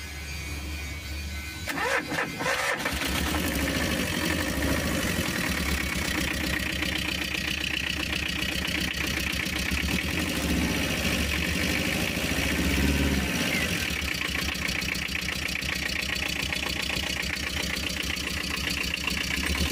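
A Tata Ace diesel engine idles steadily after its fuel pump timing has been set, with a continuous even mechanical rumble and knock. A brief louder revving or starting burst comes near the beginning, and no one talks.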